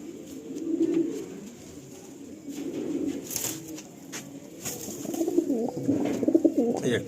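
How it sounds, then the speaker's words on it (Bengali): A loft of roughly 500 pigeons in West Bengal fills the air with soft, overlapping cooing, a continuous low warbling murmur from many birds at close range that swells toward the end. "অনেক পেয়ার পুরো লফটে তো আনুমানিক প্রায় 500-র কাছে পায়রা হবে"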